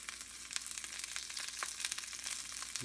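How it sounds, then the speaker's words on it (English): Olive oil sizzling in a hot pan, a close, continuous bright crackle with quick popping spatters throughout. "I'm putting some olive oil in the pan"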